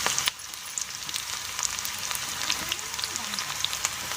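Onions hit a hot frying pan with a steady, soft sizzle and crackle, heard close up and fairly quiet, with no talking over it.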